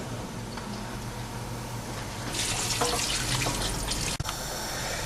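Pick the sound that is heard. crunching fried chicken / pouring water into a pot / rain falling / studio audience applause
pouring water into a pot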